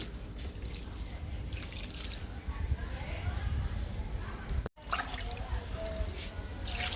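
Liquid poured from a container onto a potted mint plant, a continuous splashing trickle into soil with a brief break midway.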